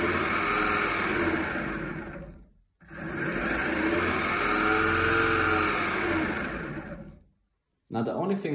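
A 3D printed electric skateboard motor runs during a ride, giving a loud, steady high-pitched whine with rough rolling noise underneath. It sounds in two long stretches separated by a short silence.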